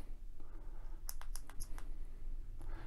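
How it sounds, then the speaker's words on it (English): Several quick, light clicks from the button on a HoneyStick Stinger vape pen battery, a short cluster of sharp taps close to the mic over steady low room hum. "By clicking it three times, you get different colors."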